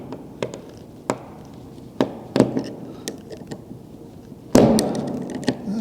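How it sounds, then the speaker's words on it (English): Screws come out of an airsoft rifle's hop-up chamber with a series of sharp, close taps and clicks of small metal parts and tools on a hard surface, irregularly spaced, with one louder clatter near the end. "Let me remove some of these screws."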